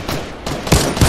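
Gunfire and explosions from an airstrike in the Fortnite video game, heard as loud, dense bursts of rapid firing with heavier booming hits near the end of a brief stretch.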